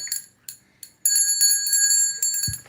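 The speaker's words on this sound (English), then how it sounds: "Here, I'll give you a bell" A small hand bell at a jewelry sale is rung in several quick strikes, then held in a bright sustained ring for over a second, fairly close and loud with no talk over it.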